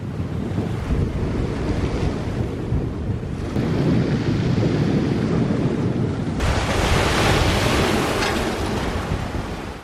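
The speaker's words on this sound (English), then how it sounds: "It's pretty windy today, so we're hoping that the crossing isn't too rough." Strong wind buffets the microphone by an Irish harbour, a loud, continuous roar that surges twice into heavier gusts, with possible surf mixed in and no talk.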